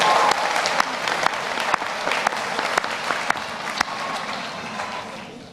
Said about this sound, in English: You can cheer now.